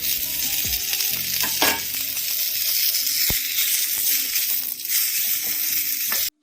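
Curry leaves and finely chopped tomato sizzle steadily in a hot pan of oil at close range, with occasional stirring scrapes and clinks over the continuous frying hiss, which cuts off at the end.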